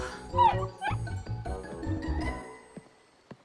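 Cartoon dog barking and whimpering, a few short yips and whines up front followed by fainter trailing sounds, set over music and background effects.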